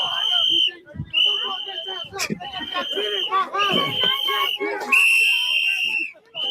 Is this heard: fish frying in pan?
no